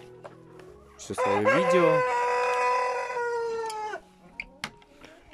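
A Colombian Brahma rooster crows loudly nearby, one long drawn-out call among hens and two roosters, with brief clucks and a short spoken remark around it.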